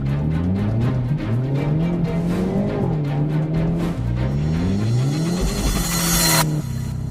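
A Hyundai Elantra N's turbocharged engine climbs through repeated rising revs with gear changes on a twisty road, heard loud and close from inside the cabin, ending in a sharp hiss of blow-off.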